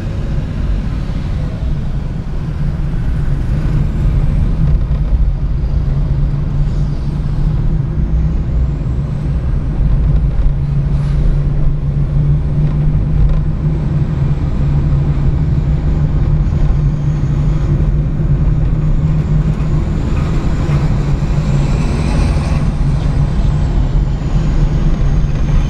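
Inside a Chevrolet Celta 1.0 Life on a highway, a steady loud road and engine roar builds as the car passes a truck, heavy low rumble throughout.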